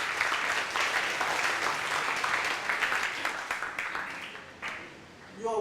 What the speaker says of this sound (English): So let's applaud.